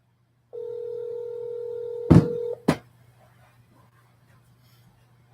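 A steady telephone dial tone for a sales call, followed by a couple of sharp clicks and a short burst as the line is dialed, then near silence.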